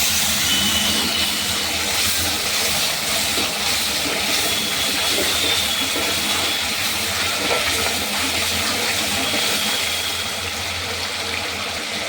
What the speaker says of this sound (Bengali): এবার মশলাটা কষিয়ে নেব, পুড়ে না যায় অল্প একটু জল দিয়ে দিলাম।